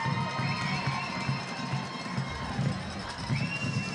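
A high school football crowd at a Friday night rivalry game between Gulf Breeze and Navarre roars steadily after a big play, a dense wash of cheering and shouting that holds loud throughout.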